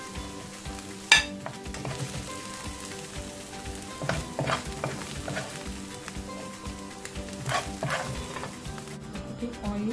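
Meat and vegetables for chicken chow mein fry in hot oil with a continuous crackling sizzle, broken by occasional sharp utensil clinks and stirring clatter against the pan.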